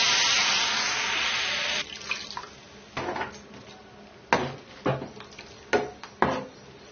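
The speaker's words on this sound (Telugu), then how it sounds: "దీనిలో సరిపోయినన్ని నీళ్ళు వేసుకోవాలి." Water streams into a cooking pot of prawn and gongura curry for about two seconds, followed by several sharp clinks and scrapes of a utensil against the metal pot.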